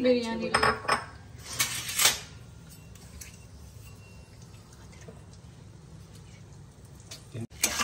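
Whole spices such as cinnamon, cloves, star anise and cardamom are stirred in a cooking pot for biryani-style bagara rice, with a few sharp metallic clinks of the spoon against the pot early on, then quieter scraping.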